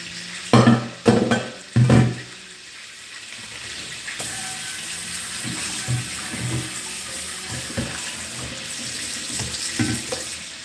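Running water from a tap splashes steadily into a sink as a pan is rinsed, with a few louder sloshes and clanks early on, close by and with no talking.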